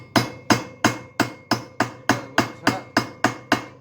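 A wheel bearing is being driven into a GasGas motorcycle front wheel, heated first, giving eleven evenly spaced, sharp metallic hammer taps at close range with no talk.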